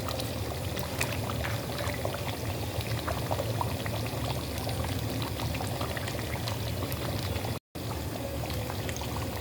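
Ghee poured into a simmering pot of beef korma, a continuous close-up liquid pour over a busy bubbling sizzle that runs steadily throughout with one brief dropout.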